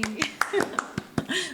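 A small talk-show audience claps in a quick, brief burst of close, sharp hand claps, mixed with a voice speaking over them.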